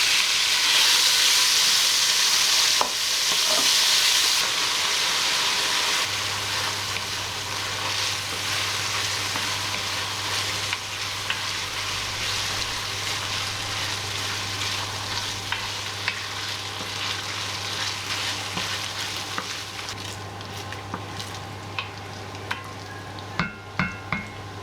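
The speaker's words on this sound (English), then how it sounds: "Now you're going to add the bacon. This just needs frying until it's crispy," Bacon sizzles and spits steadily in a hot frying pan as it crisps, with occasional stirring scrapes and clinks against the pan.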